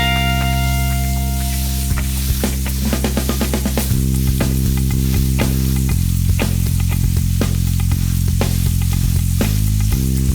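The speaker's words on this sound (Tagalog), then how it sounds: "Sa ating grilling pan, iluluto na natin ang ating patties." Beef burger patties frying on a grilling pan, a steady dense sizzle with scattered crackles and pops running throughout, close and loud, with no talking.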